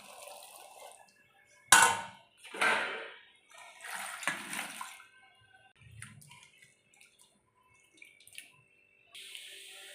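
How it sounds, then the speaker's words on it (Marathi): Steamed green peas tumble into a bowl of ice-cold water, producing several close splashes and pours with short drips and quiet pauses between them. "आपल्या मटारला अशा गार थंड बर्फाच्या पाण्यामध्ये टाकून द्यायचे आहेत"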